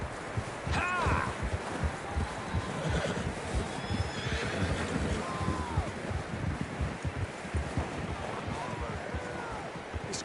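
Horses whinny in Red Dead Redemption 2 while riders push up rough terrain, with a couple of rising neighs over a dense, continuous rumble of movement and wind-like ambience.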